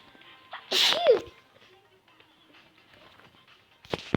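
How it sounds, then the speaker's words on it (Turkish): A single sharp sneeze from a person sitting nearby, a loud close burst followed by quiet room noise and faint clicks. "kardeşim şimdi yanımda hapşırdı"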